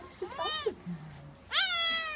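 A cat meows loudly twice, a drawn-out, wavering cry followed by a sharper, rising yowl, close up, with a brief low voice murmuring in between.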